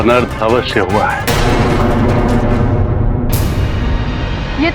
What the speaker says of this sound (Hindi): ये तो दशानंद की गदा की ध्वनि थी